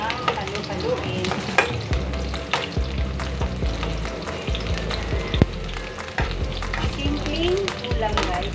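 Chayote and milkfish sauté in a hot pan with a steady, dense sizzle, while a utensil repeatedly scrapes and clinks against the pan as the food is stirred.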